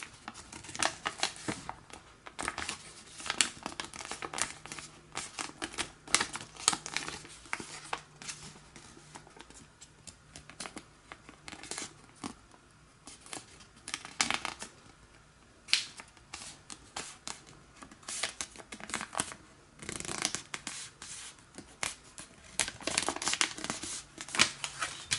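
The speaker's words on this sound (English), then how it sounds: "Unfold and rotate a little bit and fold this edge" Origami paper being creased and folded into a cross bookmark, with crisp papery crinkles and soft rustles coming in uneven bursts, close and fairly quiet, and no talking.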